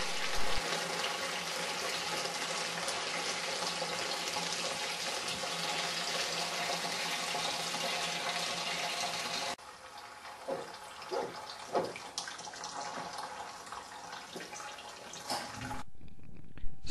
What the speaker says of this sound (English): Pour the fermented wine from the first bucket through the cloth and through the sieve.